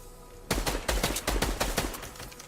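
Rapid automatic gunfire in a video game bursts out loud and close, a rattling string of shots in uneven rhythm that keeps going to the end.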